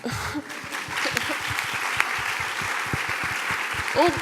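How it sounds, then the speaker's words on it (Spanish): An audience applauds at a Spanish-language talk on redesigning an impact ecosystem. Many hands clap in a continuous patter with distinct sharp claps near the front, and a voice briefly rises near the end. "Un aplauso"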